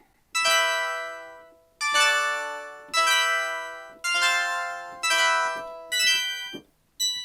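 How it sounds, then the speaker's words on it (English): Six bright, sparkly Prophet 12 synth stabs played one after another, each a sharp chord hit that rings briefly and decays, with short gaps between. "here's a patch I really like called High Hip Hop Stab"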